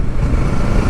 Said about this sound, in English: You pull in the clutch, you blip the throttle